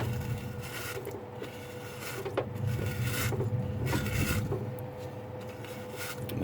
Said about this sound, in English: Start scraping this down here.